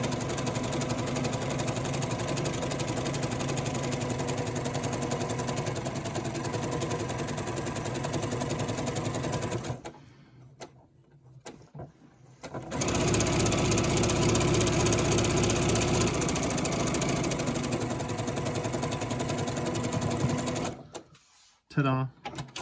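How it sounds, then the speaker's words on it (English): Sewing machine running a straight stitch along bias tape, a steady close mechanical whir that pauses briefly partway through and then resumes, with a person talking over it. "right now I'm just taking a straight stitch right down my line"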